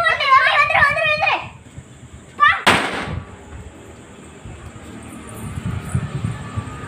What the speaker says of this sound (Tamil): பசங்க ரெண்டும் போய் பட்டாசு வெடிச்சிட்டுக்கிறாங்க பாருங்க.